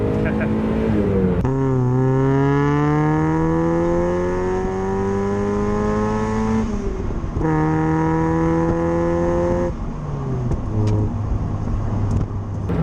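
A 1995 Mazda MX5 with a 1.6 engine and 140,000 miles revs up close toward the red line, its pitch climbing steadily through long pulls with brief dips at gear changes, under a driver talking.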